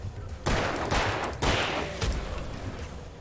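Gunfire in the game Alan Wake: four loud, close shots at a steady pace, each with a booming, reverberant tail.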